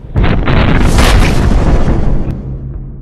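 A tank cannon fired at point-blank range into a torso target: one loud, heavy blast with a broad boom that rolls on and decays over a few seconds, with no voices.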